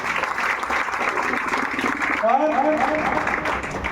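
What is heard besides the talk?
audience applauding loudly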